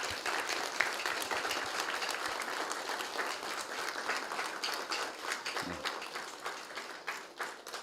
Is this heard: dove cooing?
no